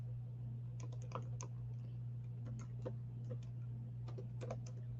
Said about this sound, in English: let me see about my typing here